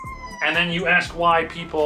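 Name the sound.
cat meowing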